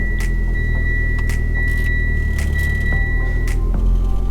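A Mitsubishi Evo X sits idling just after an oil change, a steady low engine rumble with a constant tonal whine and scattered short dashboard beeps and clicks over it, close and even throughout.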